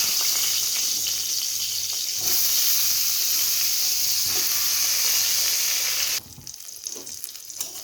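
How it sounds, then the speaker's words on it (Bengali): Eggplant (brinjal) pieces sizzle steadily in hot oil for a Bengali fish curry, a loud continuous crackling hiss that grows denser partway through, then thins and quiets near the end. "এবার আমি বাকি বেগুনগুলো দিয়ে দেব।"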